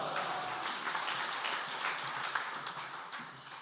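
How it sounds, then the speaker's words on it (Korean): Church congregation claps in welcome during a prayer service, a dense, even round of applause lasting a few seconds, heard alone without talk. "박수로 환영하시겠습니다."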